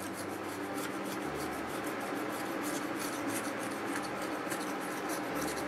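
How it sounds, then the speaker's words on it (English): Vinyl lettering being scraped off glass by hand, a close, steady rasping rub that continues without pause throughout. "So I'm going to keep scraping this"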